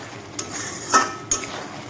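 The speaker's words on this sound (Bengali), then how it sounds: "একটু ভালোভাবে নাড়িয়ে চেড়ে নেবো ভেজে রাখা বেগুনগুলো দিয়ে আমি একটু ভালোভাবে কষিয়ে নেব" Fried eggplant is stirred and sautéed in a pan with a little water, a spatula striking the metal in three distinct clinks over a faint background hiss.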